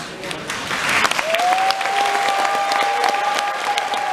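A loud round of applause from a gathered crowd at a fishing tournament event, honoring a man's life, dense sustained clapping with a whistle-like tone running through it and some voices mixed in.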